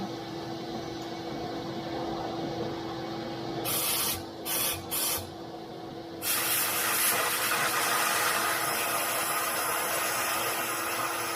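Compressed air blows dirt out of the body of a Polaris RZR side-by-side. A continuous hiss is broken midway by several short on-off bursts, then a louder, sustained blast of rushing air.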